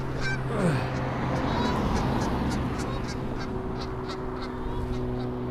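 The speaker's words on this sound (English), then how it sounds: "There's some geese right overhead." Geese honk repeatedly in a loose chorus above a steady low background drone, the calls moderately loud and passing overhead.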